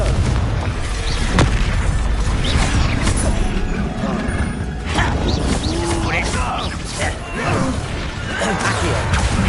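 Repeated fiery blasting spells and magical combat impacts in Hogwarts Legacy, a dense, loud, continuous barrage of booms and crashes with voices shouting over the fight.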